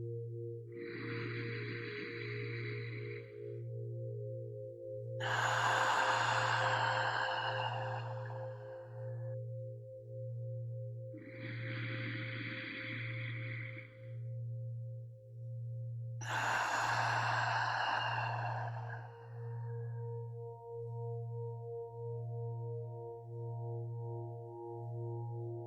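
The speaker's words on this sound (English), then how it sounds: "in through the nose, hold, out through the mouth, hold, and continue" A person breathes slowly during a guided meditation, with long breaths alternating with held pauses, audible breathing over a steady pulsing drone and sustained tones, without speech.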